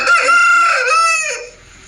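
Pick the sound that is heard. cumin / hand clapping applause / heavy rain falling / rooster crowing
rooster crowing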